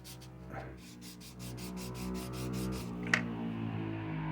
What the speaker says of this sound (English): Let's sand them.